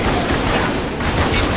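Gunfire in the video game Spec Ops: The Line, a dense, continuous wash of shots and explosions with no break across the stretch, loud and close, without any voices.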